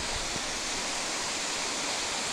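Steady broadband rush of a forest waterfall feeding a stream, close and continuous with no break, loud and even throughout, no voices.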